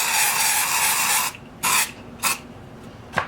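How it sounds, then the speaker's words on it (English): One long hissing spray from an aerosol can of edible shimmer onto cookies, followed by three short spritzes in quick succession, close and clear. "now I'm just going to give them a spray here"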